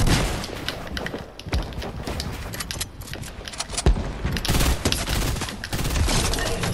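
Dense gunfire from a Fortnite Battle Royale match, with sniper shots among the bursts, crackling loud and nearly continuous through the whole stretch.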